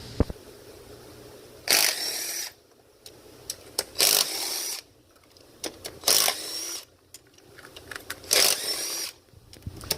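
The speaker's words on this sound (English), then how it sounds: "get you one of these little impact drivers. This one's by DeWalt." A DeWalt cordless impact driver, used while working on a 2007 Chrysler 300's 3.5 engine, fires in four short, loud bursts at a steady interval, with quiet stretches of small clicks and handling noise between them.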